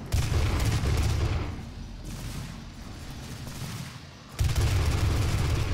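Heavy, booming enemy fire in DOOM, loud sustained blasts that ease off midway and then surge back abruptly near the end, with no talking.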